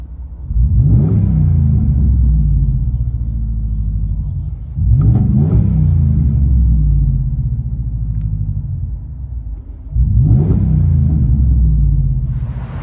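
Three rounds of a deep 5.7L Hemi V8 rumble from a Ram 1500 Limited with Flowmaster Outlaw exhaust and mid resonator delete, each swelling sharply then settling into a droning cruise, muffled from inside the cab.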